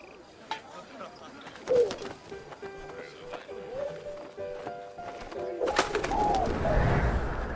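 Pigeon cooing in the video game 11-11 Memories Retold, soft low coos mixed with wing flutters and other game sounds, with a burst of louder noise near the end.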